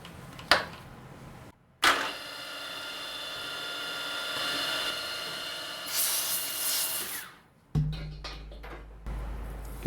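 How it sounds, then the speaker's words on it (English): A 10mm six-flute carbide end mill cuts metal held in vise grips, giving a steady, close, high-pitched machining whine that runs for several seconds, breaks off briefly, then gives way to clattering knocks. "10mm 6 flute carbide end mill."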